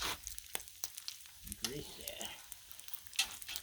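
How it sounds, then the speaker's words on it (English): A single small piece of bacon fries in a cast iron pan with a soft, steady sizzle and crackle, broken by a few sharp taps and scrapes, and a voice talking faintly over it. "I've been cooking this one little piece of bacon inside the cast iron to get it nice and greasy"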